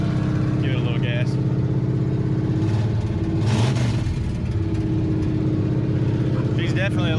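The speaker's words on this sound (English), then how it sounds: "Give it a little gas." A loud 1980 Chevy K10 pickup engine with straight headers rumbles close by, then briefly revs up and settles back to a rough idle.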